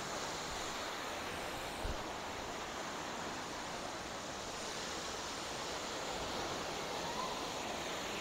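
Soochipara waterfall in Wayanad, a steady broadband roar of falling water that stays constant and fills the whole stretch, with no voices.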